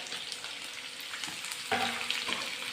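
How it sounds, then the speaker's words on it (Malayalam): Chopped onion and green chilies sautéing with garlic in a pan make a soft, even sizzle that swells louder partway through as the pan is stirred, with no talk over it. "ഒരു സവോള അരിഞ്ഞതും ഒരു മൂന്ന് പച്ചമുളക് കീറിയതും കൂടെ ചേർത്ത് കൊടുക്കണം ഒന്ന് വഴറ്റിയെടുക്കണം"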